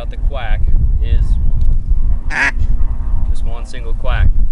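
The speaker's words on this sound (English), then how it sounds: "just one single quack" Quacks blown on a single-reed zinc duck call, a few short nasal calls spaced across the clip with a louder burst in the middle, heard over a steady low rumble.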